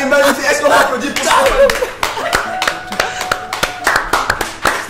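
A studio audience on a French morning TV show claps in scattered bursts mixed with laughter and voices, with individual sharp claps standing out rather than a full ovation.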